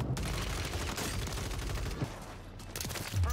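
Rapid gunfire from a Renetti pistol in Call of Duty Warzone on Rebirth Island, a dense burst of loud close shots running nearly the whole time with a few heavier cracks near the end.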